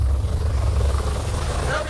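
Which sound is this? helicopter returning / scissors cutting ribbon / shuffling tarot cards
helicopter returning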